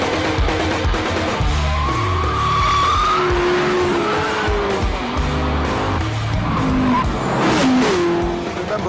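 An Audi R8 sports car skids across a difficult test track, its tires squealing in long wavering pitches over a loud, steady engine roar that swells and fades through the run.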